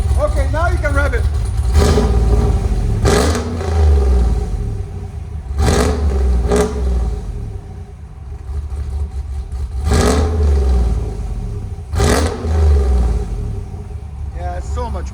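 A cammed GMC Sierra 6.2L V8 with headers and exhaust valves open revs hard in several loud, sharp bursts, dropping back to a rumbling idle between each, with people talking over it.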